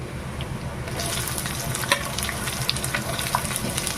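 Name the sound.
chopped onion frying in oil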